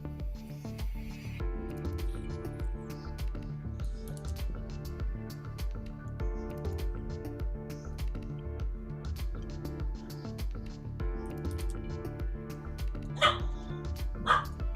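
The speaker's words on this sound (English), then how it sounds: "it's my little puppy in the background." A small puppy barks in the background in repeated sharp bursts, fairly distant and steady through the stretch, mixed with faint tapping and handling noises nearby.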